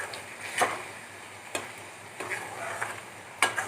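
Spices fry in a pan for rajma masala, with a few spaced spoon scrapes and taps over a faint sizzle, close by and without speech.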